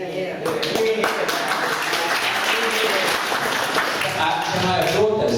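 An audience at a campaign group's annual general meeting claps in a dense, continuous round of applause lasting several seconds, with voices faintly audible beneath it.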